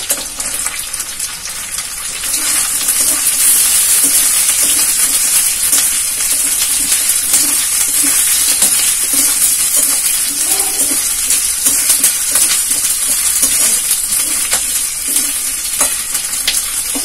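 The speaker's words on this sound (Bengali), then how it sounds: "এবার আমি ক্যাপসিকাম গুলো দিয়ে দিচ্ছি।" Capsicum sizzles and fries in a pan, a steady crackle with soft stirring scrapes that carries on without pause and with no talking.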